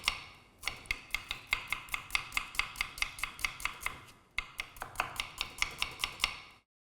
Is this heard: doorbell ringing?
no